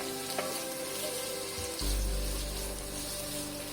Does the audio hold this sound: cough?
no